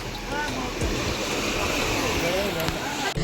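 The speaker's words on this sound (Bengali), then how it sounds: "আচ্ছা, বকখালির মতোই ঢেউ।" Sea waves roll onto the beach at Mousuni Island, a steady close wash of surf with gusty wind buffeting the microphone while people talk nearby.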